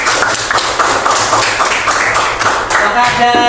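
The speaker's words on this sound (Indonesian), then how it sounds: "Oke, tepuk tangan." A classroom group claps together, a dense, loud burst of applause that keeps going to the end, with a few voices mixed in.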